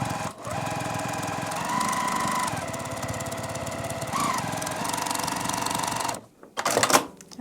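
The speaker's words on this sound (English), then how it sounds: "now we can just sew right down this using a straight stitch" A sewing machine runs a long straight stitch through a multi-zipper pouch, a steady close rapid mechanical whir that stops near the end before a short final burst.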